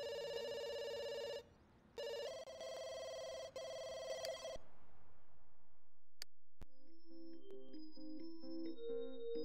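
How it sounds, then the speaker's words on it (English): Telephone ringing as a steady electronic tone with brief pauses, followed by clicks and a short melodic jingle of synthetic notes, fairly quiet with no talk. "Over here, answer the phone."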